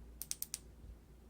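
A bicycle light's button is pressed in a quick burst of four crisp, close clicks within half a second, then quiet room tone.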